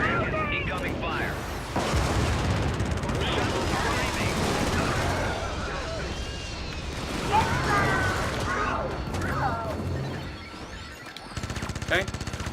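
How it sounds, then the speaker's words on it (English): Dense bursts of video game gunfire and explosions in a chaotic battle with a tank dropping in, steady and loud throughout with players talking over it. "Incoming fire."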